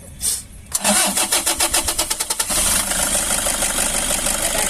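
A Toyota Hi Ace engine, just fitted with a new fuel filter, cranks in a quick rhythmic series of starter turns, catches, and settles into a smooth, steady idle, heard close up.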